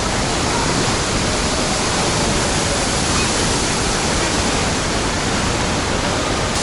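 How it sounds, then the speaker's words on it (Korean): Waterfall in Ubud, Bali, a loud unbroken roar of falling water that fills the whole stretch evenly, heard close up with no voices over it. "여기도 많은 관광객이 찾는 폭포 중에 하나입니다."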